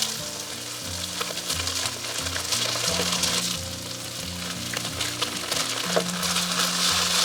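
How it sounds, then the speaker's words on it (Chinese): Slices of pork liver coated in sweet potato starch pan-fry over medium heat in a wok, sizzling steadily and crackling beneath background music. "煎猪肝的话，全程也是中火煎哈"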